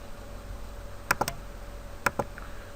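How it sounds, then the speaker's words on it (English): Keys on a computer keyboard clatter in two short bursts, a quick cluster of three clicks followed by a pair, close and crisp against a quiet room hum. "I can simply type his name."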